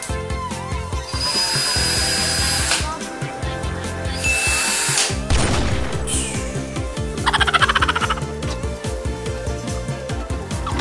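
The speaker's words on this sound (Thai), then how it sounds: "so I am going to make a hole using this electric drill as well" An electric drill whines in bursts while boring a hole, its motor rising and stopping several times close by, mixed with clattering handling noises.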